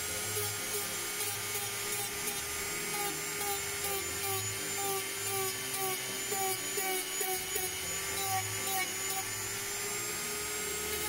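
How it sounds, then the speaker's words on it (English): A Dremel rotary tool grinds over a prop fire axe grip, giving a steady, close, high-pitched whine with a faint buzzing undertone that holds without a break. "It took me about 40 minutes doing all this Dremel work."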